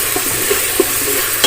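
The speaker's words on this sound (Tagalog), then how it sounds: "Gisa-gisa lang." Ingredients sauté in a multi cooker set to fast cook, a steady, close sizzle with a couple of soft clinks from stirring across a short stretch.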